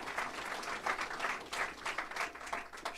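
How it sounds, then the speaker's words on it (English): An audience applauds at a state budget signing, a soft, steady patter of many hands clapping at a moderate distance, rising and falling slightly in waves. "shamelessly fishing for applause."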